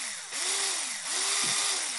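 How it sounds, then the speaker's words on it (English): A handheld power tool drives screws during a small craft assembly, giving two close whirring bursts whose motor pitch swoops up and down as it spins. "So I'm gonna use my power tool."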